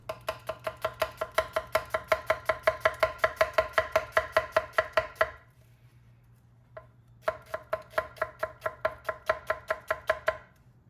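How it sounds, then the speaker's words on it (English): A knife slicing an onion on a cutting board, fast even chops close up, a run of about twenty-five strokes, a short pause, then another quick run, no talking. "Use your hand to guide the knife following the grain of the onion."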